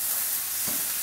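Chicken frying in a pan for African BBQ chicken (kati kati), a loud steady sizzle and hiss close up that holds without a break, with a faint stir or shift of the pieces partway through.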